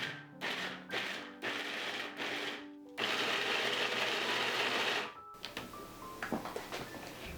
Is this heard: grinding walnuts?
yes